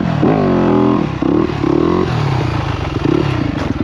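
A 250 motorcycle rides in tight circles, its engine note rising and falling with throttle blips and gear changes, loud and close with no talk.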